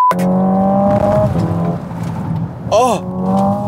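Hyundai IONIQ 5 N in N mode with simulated dual-clutch shifting accelerates loudly, its synthetic engine tone rising and dropping through quick gear changes, while a man exclaims over it.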